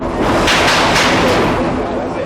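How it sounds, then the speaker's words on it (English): A loud, dense burst of gunfire exchanged outside a hijacked school bus in Miami in 1995, several sharp shots blurring together into a sustained roar with no pause. "as you're about to hear, the confrontation ended in gunfire"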